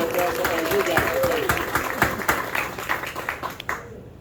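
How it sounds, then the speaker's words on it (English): Audience applause at a book presentation in a library in Aruba, a steady patter of many hands with a cheer near the start, fading out toward the end. "Applause for Mr. Philip Arnell."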